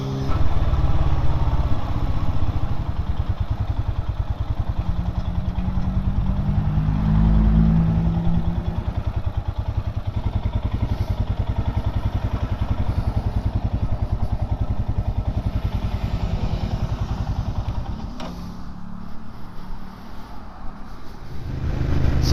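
A 2021 Royal Enfield Himalayan motorcycle rides along with a steady engine drone and heavy wind rumble, loud and close throughout, with no talk.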